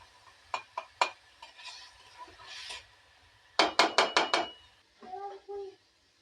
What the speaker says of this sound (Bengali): এখন আমি যেটা করব সেটা হচ্ছে খুব ভালো করে এগুলোকে নাড়বো, নেড়ে নেড়ে ঝরঝরা করে ফেলবো।